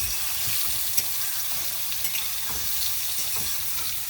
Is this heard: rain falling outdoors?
no